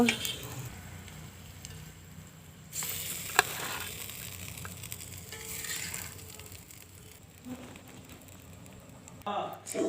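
Fish and onions fry in a pan while being stirred, a soft, uneven sizzle with occasional scrapes and bursts, fairly quiet under the room's background noise.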